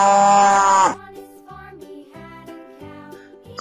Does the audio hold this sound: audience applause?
no